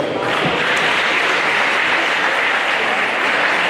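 Steady, dense applause fills a college men's basketball gym, City College of San Francisco against Chabot College, holding at an even, loud level throughout with no break.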